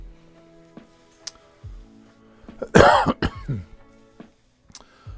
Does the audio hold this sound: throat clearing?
yes